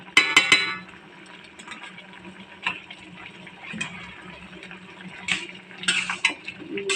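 A pot of tilapia and taro curry stirred after adding ginger, garlic and cumin paste, with scattered metallic clinks and scrapes of a spoon against the pot, faint bubbling and a few sharper knocks.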